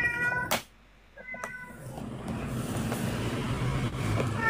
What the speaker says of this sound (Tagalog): Yung pusa nag-iingay